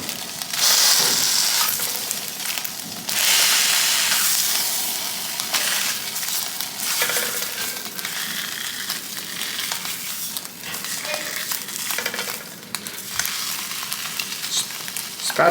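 Slices of bread for Korean street toast sizzle and fry in a hot pan, a steady close crackling hiss that runs throughout with a few louder bursts as pieces are turned.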